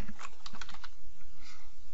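Fingers type a short name on a computer keyboard, a quick burst of crisp key clicks in rapid succession followed by a brief pause and a couple more taps, close and clear.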